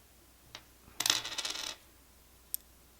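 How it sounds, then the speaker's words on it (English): Corroded zinc German Reichspfennig coins from the World War II era clink together when handled, with a single light tap, a dense jingling burst of about a second, then one more sharp metallic tick, close and otherwise quiet. "These coins are made out of zinc, and they've gotten pretty corroded over the years."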